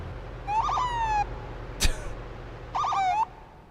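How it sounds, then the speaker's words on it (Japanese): A strange police car siren from a game sounds in two short warbling electronic bursts, split by a sharp click, in a quiet room with no talking. "なんか私のサイレン癖があるんですけど"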